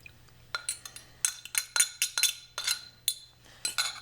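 A spoon stirring milk into a flour mix for hot cross buns in a bowl, with a quick irregular series of close clinks and scrapes against the bowl's side over a few seconds and no voices.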